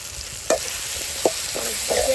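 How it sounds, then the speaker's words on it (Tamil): Brinjal sautéing in a pan for a dried-fish curry, a soft steady sizzle with a few distinct clinks of a spoon stirring against the pan, no talking. "கத்திரிக்காய் போட்டு கொஞ்சம் நல்லா வதக்கிட்டோமா"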